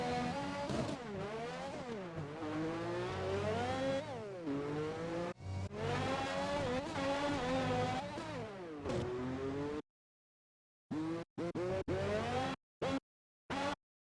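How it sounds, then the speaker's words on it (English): A race car in the F1 2021 video game spins its wheels on a corner exit. The engine revs rise and fall repeatedly alongside the spinning tire, loud and alone, before breaking into short choppy bursts. "You could definitely hear the wheel spin on the left."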